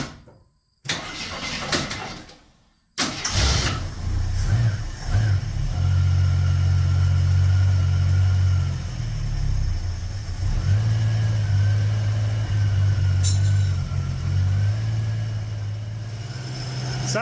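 An old classic vehicle with a carburetor cranks, catches after a brief pause and settles into a steady low idle, with a couple of revs rising and falling over the running engine, loud and close.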